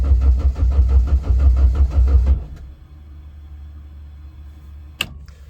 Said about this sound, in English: It's getting RPM and everything. It wants to start, but I didn't put the passcode in, so it's not going to start.